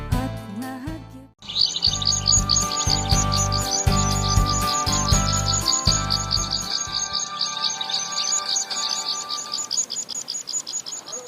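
Bird chirping in the forest scene of a children's finger puppet show, heard as rapid repeated high tweets and trills that run continuously over a loud rhythmic musical backing, with no talking.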